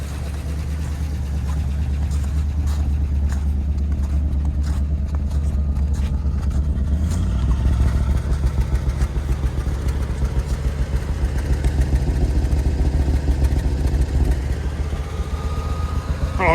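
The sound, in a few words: classic car engine revving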